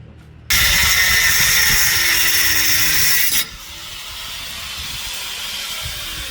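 A power tool cuts metal while building a homemade studio, throwing sparks: a loud, harsh, hissing grind for about three seconds that cuts off abruptly, leaving a quieter lingering whir.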